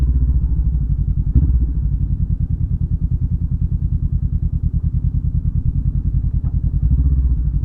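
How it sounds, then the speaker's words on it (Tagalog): A motorcycle engine putters steadily close by, its low, rhythmic chugging holding at an even level throughout. "Ang daming motor dito"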